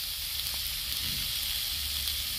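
Ground spices and turmeric hitting hot oil for an instant mixed carrot, radish, chili and amla pickle, giving a soft, steady sizzle with faint hiss and a brief stir, fairly quiet and alone.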